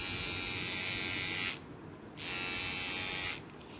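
A Veet electric hair trimmer for women runs with a steady high buzzing whine, cutting out briefly twice as its pitch drops and load shifts.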